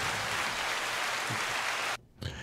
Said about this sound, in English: and applause for Mo